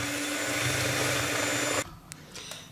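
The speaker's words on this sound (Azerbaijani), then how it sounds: "Və bunu yaxşıca mikserdə çalacağım." An electric hand mixer whips egg whites for a cottage cheese casserole, a loud, steady whirring drone that runs for nearly two seconds, then cuts off abruptly, leaving a few faint clicks and soft handling noises.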